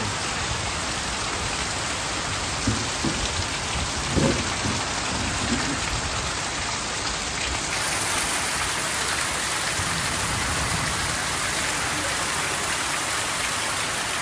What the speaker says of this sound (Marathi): खूप पाऊस होतो.